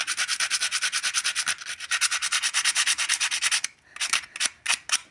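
Sandpaper rubbed back and forth over a car's metal ground connector, a steady run of close, rhythmic scraping strokes that pauses briefly and then resumes in a few shorter, separated passes.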